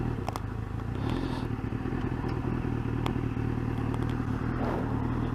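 A 1999 Suzuki GSX-R 750 SRAD with 46,000 miles and a fresh tyre being scrubbed in, its engine droning steadily and close with light clatter and thumps from the road.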